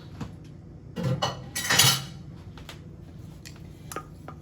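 Potato filling for vegan flautas being folded and broken up in a bowl, a few scraping, clinking strokes of a utensil against the bowl, with two louder bursts, close and otherwise quiet.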